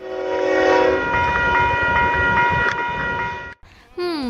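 A long train rolls steadily past, its horn sounding sustained harmonic blasts over the rumble and clatter of wagons, loud and close, then cutting off abruptly near the end.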